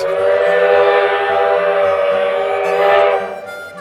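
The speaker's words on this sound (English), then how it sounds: "the wonderful sound of steam whistles have echoed through the town ever since." A loud, sustained Northern Pacific five-chime steam locomotive whistle blows steadily for several seconds, rich and multi-toned, then begins to fade near the end.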